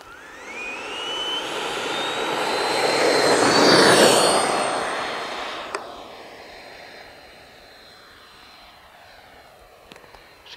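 An HSDJETS F-86 120mm electric ducted fan RC jet flies past and climbs, its whining turbine-like roar swelling to a loud peak with a rising tone, then fading into a distant hiss as it moves away.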